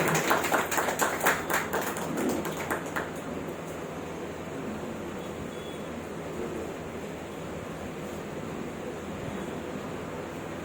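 Clapping from a gathered audience welcoming guests, a few seconds of dense applause that fades into a steady, noisy, wind-like room hiss.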